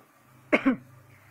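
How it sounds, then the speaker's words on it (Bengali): A single short cough from a person with a cold, two quick close bursts in an otherwise quiet room with a faint steady hum. "আমার একটু ঠান্ডা লাগার কারণে আমার একটু কাশি আসছে"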